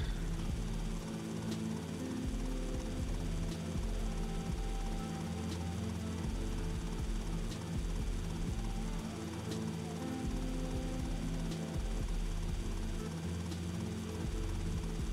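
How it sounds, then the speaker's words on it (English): Helicopter rotors thump in the GTA Vice City video game, a loud continuous chopping drone with low throbbing blade beats and periodic clicks, heard close and unbroken. "I thought the heli was gone, I'm gonna be honest."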